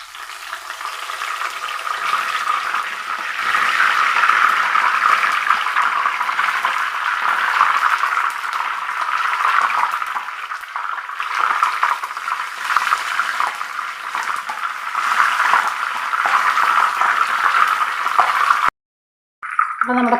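Curry leaves hit hot oil in a pan used for frying jackfruit, setting off a loud, continuous crackling sizzle that holds nearly steady, with a brief break near the end.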